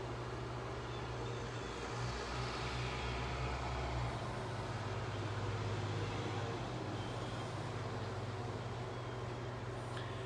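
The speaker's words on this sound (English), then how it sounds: "That was just a school bus going by" A school bus drives past on the road, a broad, steady low engine and tyre rumble filling the whole stretch without any talking.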